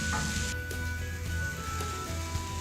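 Meat sears on an Arteflame grill with a loud, continuous sizzle and crackle, close up and steady throughout with no talking.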